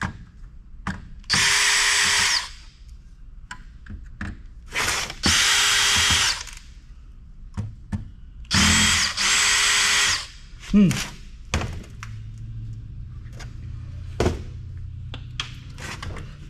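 Power driver unscrewing Torx screws from a server motherboard during e-waste scrapping, with several loud whirring bursts of a few seconds each, separated by small clicks and handling noises, and speech in between.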